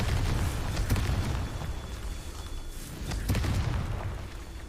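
Confringo fire spell exploding in the Hogwarts Legacy video game: a couple of deep rumbling booms with bright crackling bursts, loud and close over a continuous low background roar.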